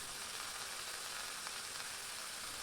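Grated beetroot and onion fry in a pan with a steady, dense sizzle that holds evenly throughout, close and moderately loud, with no talking.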